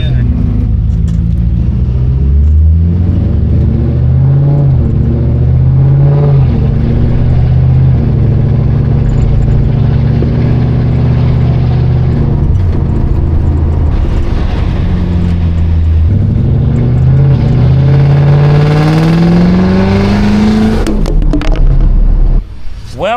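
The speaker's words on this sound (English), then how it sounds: "Gotta carefully get out of this little parking spot where I left my car a few days back." A car pulls slowly out of a tight parking spot, its engine rumbling low and steady close by for over twenty seconds, with revs rising and falling as it maneuvers and a brief clunk near the end.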